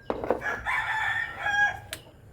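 A chicken crows once, close and clear, a drawn-out call with a short rising tail, with a few soft knocks around it.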